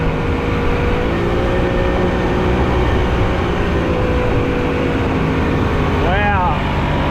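A rubber motorboat's outboard engine drones steadily at full throttle, loud and close with a constant roar over rushing water, its pitch sweeping briefly near the end while people talk over it.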